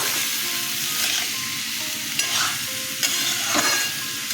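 Potatoes go into a hot pan for a papaya and potato curry and sizzle steadily and close by, with several scraping stirs of a spatula and no talking.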